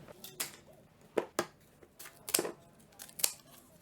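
Scissors trimming a handmade craft robot, with several sharp, close snips in an irregular rhythm against a quiet background.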